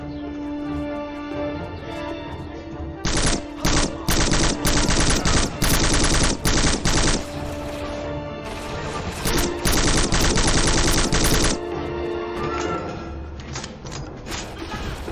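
Rapid bursts of gunfire in the video game Black, loud and close, with automatic fire rattling in long stretches over a steady background of game noise.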